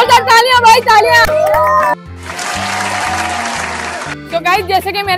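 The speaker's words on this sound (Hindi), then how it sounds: "जोरदार तालियां भाई तालियां" A short burst of clapping and cheering, about two seconds long, rises between stretches of excited talking over a steady, thumping music beat at a public pizza-eating challenge on a Karachi street.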